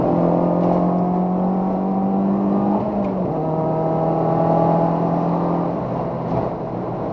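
A Renault Clio 182 Trophy's engine drones loudly from inside the cabin, its lumpy, cammed note climbing in pitch in third gear, dipping briefly at a shift, then pulling again.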